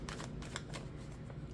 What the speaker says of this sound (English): I keep shuffling the wrong cards here.